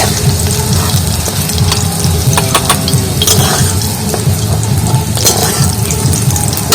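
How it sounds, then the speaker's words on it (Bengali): Eggplant slices frying in hot oil in a pan, a steady loud sizzle with scattered sharp crackles and clinks from stirring, no voices. "এখানে বেগুনগুলো পুরো লাল লাল করে ভেজে নিয়েছি"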